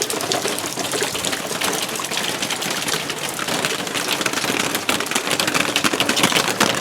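Water running and splashing steadily as it flows across and pools in a desert backyard, a continuous broadband wash that stays fairly loud and even throughout, with no voices.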